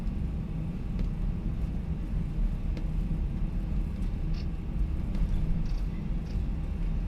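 Airbus A320 engines in Microsoft Flight Simulator 2020 heard from the cabin, a steady low rumble with a faint hiss, continuous and moderately loud.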